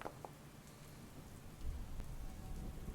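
Rain ambience plays during a tabletop roleplaying campaign: a steady, soft wash of falling rain with scattered drops, faint and continuous, with no voices.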